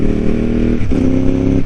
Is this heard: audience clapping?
no